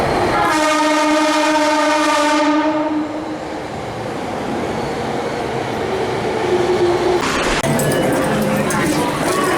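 Tokyo metro train running near Shinjuku, opening with a sustained harmonic horn or brake tone, then rolling rumble and clatter with a sharp screech or clank late on, loud and close, with voices in the background.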